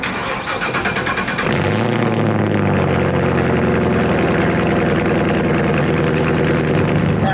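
A powerful Camaro ZL1 engine cranks and fires up, then settles into a loud, rumbling idle with blips of revving, close by and dominating.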